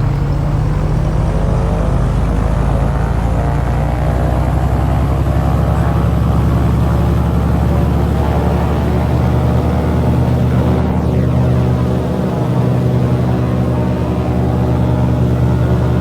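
A Mooney Ovation aircraft engine is run up to 2,000 RPM during a run-up facing into the wind with the parking brake set, giving a loud, steady propeller drone that holds constant and close throughout.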